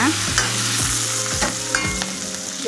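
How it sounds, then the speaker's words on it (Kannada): Ginger and curry leaves fry in a pan with a steady, close sizzle, broken by regular spatula stirs and scrapes every half second or so. "1 ಇಂಚಷ್ಟು ಶುಂಠಿ, ಒಂದು ಸ್ವಲ್ಪ ಕರಿಬೇವು ಫ್ರೈ ಮಾಡ್ಕೊಳ್ಳೋಣ."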